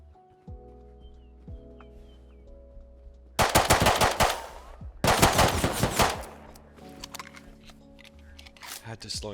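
An early gun in the survival video game Rust fires two loud, rapid automatic bursts a moment apart, close and sharp over a quieter ambient game background.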